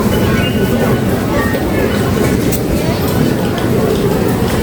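Inside a Taiwan metro station, a continuous loud rumble of rail transport fills the space with steady broadband noise and faint crowd chatter beneath.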